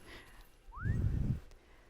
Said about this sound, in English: normally you just whistle